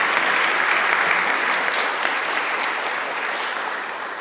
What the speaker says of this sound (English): a round of applause for our Somerset County champion